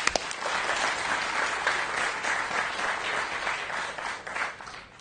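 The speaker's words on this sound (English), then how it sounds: "Let's give a hand clap." Audience applause fills a quiz competition hall between rounds, a dense wash of many hands clapping steadily for several seconds at moderate volume.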